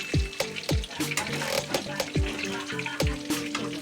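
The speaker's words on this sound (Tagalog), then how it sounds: "tapos na po tayo mag-prito ng tilapia" Tilapia frying in hot cooking oil, a constant crackling sizzle close by, broken by several sharp thumps and clinks from the pan and utensils.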